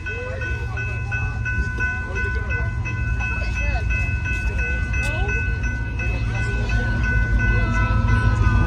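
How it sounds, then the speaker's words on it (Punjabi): A train rumbles past an automatic level crossing in White Rock, Canada, its low roar building steadily over several seconds, with a faint whistle-like tone and distant voices in the background. "ਆਪਾਂ ਦੇਖਿਆ ਕਿ ਟ੍ਰੇਨ ਆ ਰਹੀ ਆ"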